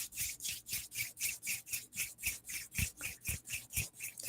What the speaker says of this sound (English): gently rubbing your hands together to generate a little heat, a little warmth